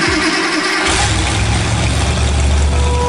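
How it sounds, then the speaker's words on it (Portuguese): A motorcycle engine starting to accelerate, kicking in after a brief moment and then holding a loud, steady mechanical drone with a low, rough rumble throughout. "Aqui já é uma moto começando a velocidade."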